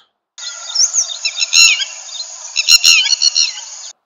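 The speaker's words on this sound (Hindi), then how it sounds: "वो पक्षी था रेड वाटर लैपविंग जो कि एक अजीब सी आवाज़ निकालता है" A red-wattled lapwing gives its sharp, repeated calls, clear and close against silence, a series of shrill piping notes that rise and fall in short bursts with a couple of louder clusters.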